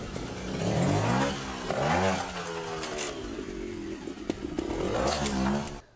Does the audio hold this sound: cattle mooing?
no